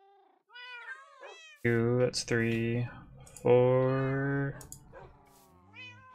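Several Minecraft cats meow in short, close, clear calls, some drawn out and some clipped, with a voice speaking briefly between them.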